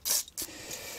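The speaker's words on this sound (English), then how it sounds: "I'll put a bit of brake cleaner on them" Short bursts of aerosol brake cleaner hissing onto motorcycle brake pads from a Yamaha Fazer 600, two quick close sprays in a quiet workshop.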